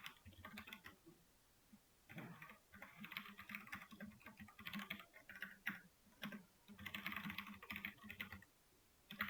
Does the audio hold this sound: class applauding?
no